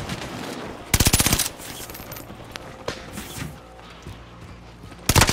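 Call of Duty gunfire crackles in two loud automatic bursts, one near the start and one at the end, with scattered quieter shots and thuds between them.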